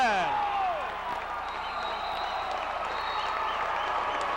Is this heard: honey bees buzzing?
no